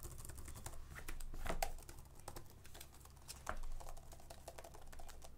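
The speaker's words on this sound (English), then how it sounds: "once you unplug the keyboard, can you still use the keyboard?" Quiet, irregular key taps on the detachable keyboard of an Asus ROG Flow Z13 tablet with the keyboard unplugged, a few clicks per second close by with no talk.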